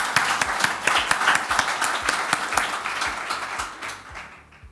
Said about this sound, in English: that's really well worth an applause for the achievement